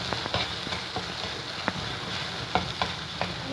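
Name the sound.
vindaloo masala being sautéed and stirred in oil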